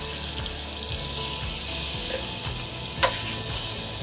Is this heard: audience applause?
no